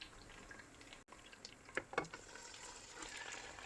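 Washed beef tripe dropped into a pan with browned onions, bay leaf and garam masala, a soft low sizzle with a couple of brief splashing bursts as the pieces land, fairly quiet.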